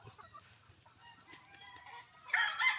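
Chickens cluck softly and a rooster crows briefly near the end, faint and somewhat distant, with low background noise; one chicken has indigestion.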